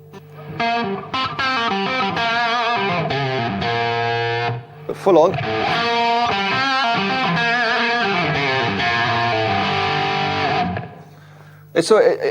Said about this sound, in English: you could have your full-on distortion sound